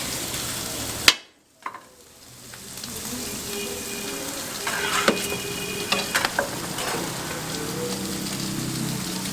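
Kokoreç sizzling and being stirred on a street griddle in Çorum, with a sharp clatter at the start, a brief lull, then a rising crackle of frying and scattered scraping taps.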